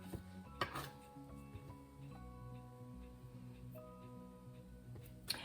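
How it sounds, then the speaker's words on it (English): Light metallic clinks and knocks as sourdough baguettes are placed into a metal baguette pan, a few sharp taps over a low background hum, fairly faint and close. "I'll be using a pan, a baguette pan, to put these in while they ferment the second time."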